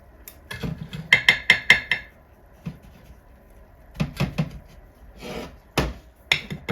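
A utensil scrapes and clinks against a pan while caramel frosting is stirred, in short bursts of close, sharp taps and scrapes separated by quiet gaps.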